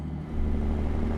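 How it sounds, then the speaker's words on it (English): Heavy truck engine in American Truck Simulator, a Ruda 389 tri-drive hauling a lowboy trailer, droning loud and steady at high revs with a deep low rumble, no voices. "I'm revving the engine awful high"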